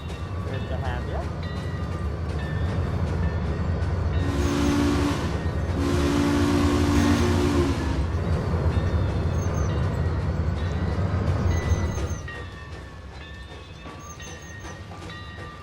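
Train whistle in the Trainz railway simulator on a Hatchet Creek switchback route, two long blasts of the whistle in quick succession over the rumble of a running train, with a person talking over parts of the clip.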